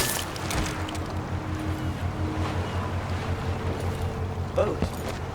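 A boat in the video game Dishonored 2 gives off a steady low engine hum and lapping water, with game ambience and a person's speech heard faintly over it.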